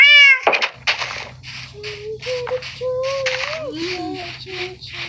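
A cat in the video game Minecraft meows repeatedly in short, rising and falling calls beneath a low steady hum, mixed with a player talking over it.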